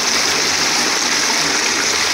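Rain floodwater rushing past a steel plate and a low wall, a loud, continuous broadband gush close to the microphone with no letup.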